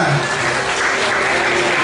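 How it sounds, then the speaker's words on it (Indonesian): Loud, dense applause from a crowd at a village quiz competition event honoring the elementary school principals, steady and continuous throughout. "Kita beri tepuk tangan untuk Bapak Kepala Sekolah SD 1 dan SD 2"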